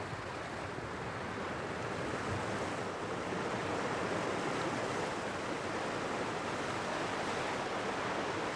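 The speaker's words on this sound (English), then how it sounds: "This is the sound you get all day in Keld, water, rushing water, all day long." Rushing water of the East Gill Force waterfalls at Keld, a steady, dense roar of cascading water that stays loud and unbroken throughout, with some wind buffeting the microphone and no voices.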